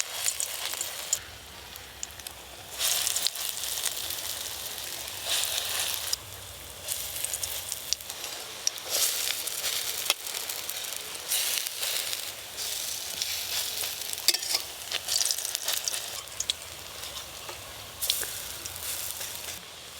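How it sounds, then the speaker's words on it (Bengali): Small crab and red lentil (masoor dal) fritters frying in hot oil until reddish, giving a steady, close crackling sizzle with bursts of popping throughout and no voices. "বড়াগুলো লাল লাল করে ভেজে নিয়েছি"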